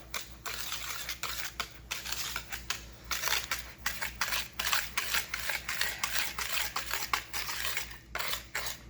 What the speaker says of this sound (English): now what I'm going to do now is I'm going to mix this together.